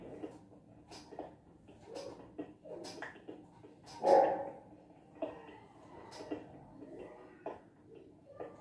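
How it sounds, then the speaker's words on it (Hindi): A dog barks several times at a distance behind a Minecraft play session, short scattered yaps with one louder bark near the middle, under quiet background noise. "कुत्ता क्यों भौंकता है यार, जब भी मैं कुछ काम करता हूँ कुत्ता भौंकता रहता है अलग।"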